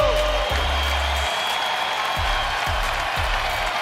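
An arena crowd gives Dirk Nowitzki a standing ovation during a timeout with 9.4 seconds left, a steady loud wash of applause and cheering with low thumps pulsing through it.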